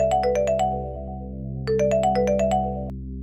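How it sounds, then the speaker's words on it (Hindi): A phone rings with a bright electronic tone, two bursts of quick rising chimes over a steady held drone, the second burst following after a short gap. "अचानक फोन बजने लगा।"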